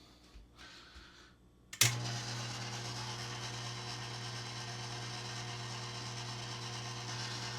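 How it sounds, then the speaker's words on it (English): A stand mixer kicks on abruptly after a few faint knocks, then runs at a steady, loud motor whine with no pause, close by and alone. "The stand mixer is now plugged in."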